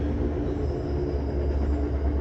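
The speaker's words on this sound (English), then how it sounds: "A train run by my house every 15-20 minutes." A train rolls past a house at a steady distance, with a continuous low rumble of railcars and faint wheel squeal and no talking.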